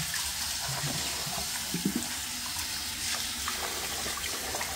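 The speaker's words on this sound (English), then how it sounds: "just wash your rice and put water" Tap water runs steadily into a sink while rice is washed, a constant close splash with a few faint clinks, no talking.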